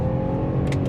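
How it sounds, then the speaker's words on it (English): A 35-year-old BMW 5 Series with automatic gearbox hums and revs steadily up close, a smooth continuous engine drone with a brief higher whir near the end. "the engine makes such a lovely sound"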